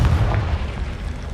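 A Confringo blasting spell explodes in Hogwarts Legacy, giving one loud, deep boom at the start that rumbles and fades over the next second.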